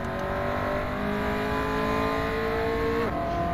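Race car engine in the rFactor 2 racing game, a steady loud drone with sustained harmonic whine, a sharp drop in pitch near the end as the car brakes, and faint tyre noise beneath, with no talking.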